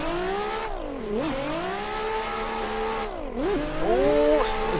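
A 1000-horsepower Nissan S15 drift car engine revs hard and steady, its pitch dipping and climbing twice as the throttle lifts and reapplies, loud and close with a touch of tire noise.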